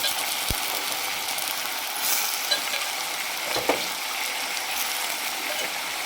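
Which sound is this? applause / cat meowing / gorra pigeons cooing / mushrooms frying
mushrooms frying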